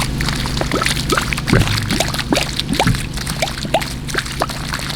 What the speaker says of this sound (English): You guys can see the water coming out.